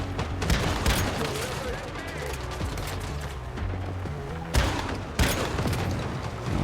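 Gunfire rattles in the video game Once Human, with bursts of rapid shots, loud and close, broken by a couple of sharper cracks, and occasional talk underneath.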